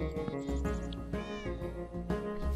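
Cats meowing in the Minecraft video game, several short, clear mews in quick succession over a busy background, close and distinct.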